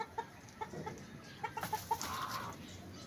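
A hen clucks in short, soft bursts, a few spaced clucks then a quick run of them, fairly faint against quiet outdoor background.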